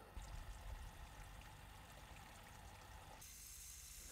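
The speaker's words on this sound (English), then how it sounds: "finished filling the aquarium with water from the pond." Pond water pours into an aquarium as a soft, continuous trickling stream, faint and close, shifting in tone near the end as the flow changes.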